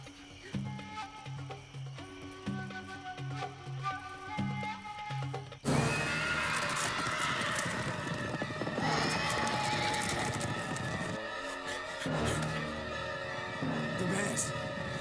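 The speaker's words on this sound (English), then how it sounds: "The mares!" Several mares neigh and whinny loudly amid a dramatic, busy scene with hoofbeats and other commotion, the calls rising sharply after a quieter stretch of music-like tones and continuing to the end.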